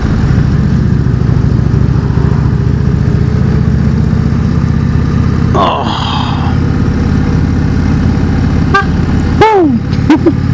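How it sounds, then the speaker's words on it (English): An Indian Chieftain motorcycle horn gives a few short, loud toots near the end, over a steady engine rumble and wind noise while riding. "It took me forever to find the horn."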